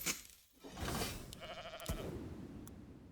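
Sheep unit in the tower defense game Legion TD 2, a couple of bleating cries over busy game effects with a sharp hit near the middle, moderately loud with no talk.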